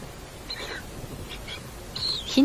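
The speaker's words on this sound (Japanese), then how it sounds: "優しくヒナに呼びかける親鳥" A Lidth's jay parent softly calls to its chicks at a nest in a forest on Amami, a few faint, short squawking notes over a quiet woodland background.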